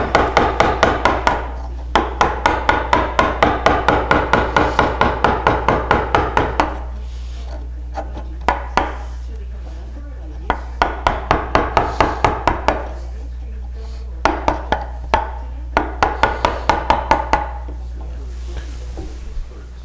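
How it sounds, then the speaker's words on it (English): A carving gouge cuts into the end grain of wood on a tilt-top table reproduction, struck in quick, rhythmic bursts of sharp wooden taps close by, pausing briefly between runs. "This carving gouge is either very dull or I'm carving off all end grain here."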